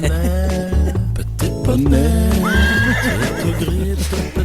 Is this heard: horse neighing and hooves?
yes